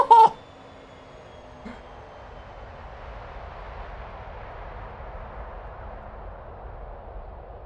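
McDonnell Douglas MD-11 airliner engines on approach to Kai Tak in a flight simulator game: a short thump opens, then a faint, steady jet drone slowly builds and holds.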